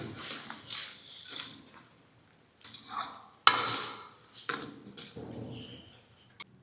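Lentils for gongura dal being stirred in a pan, with intermittent scraping and clinking of a spoon against metal, close up and moderately quiet, in short bursts with pauses and a sharp knock partway through.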